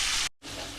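Prawns frying with spices in a pan, a close, continuous hissing sizzle that breaks off briefly and then resumes.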